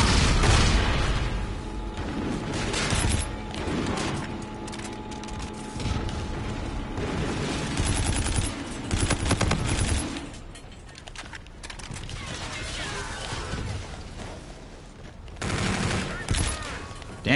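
Sustained light machine gun fire in the Call of Duty Infinite Warfare shooter game, rapid bursts layered with mechanical clatter and explosions, steady and loud with brief pauses, other game sounds mixed in.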